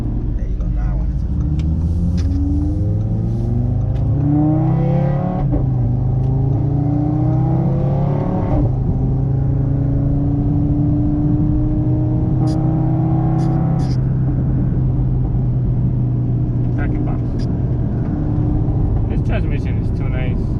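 An Audi RS3 family car runs on a dyno, its engine roaring loud and close as it climbs through repeated rising revs, with voices talking over it.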